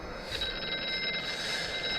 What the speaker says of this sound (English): The Phone's ringing again.